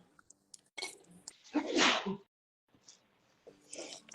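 A single sneeze, fairly close, amid soft breathing and quiet handling noises.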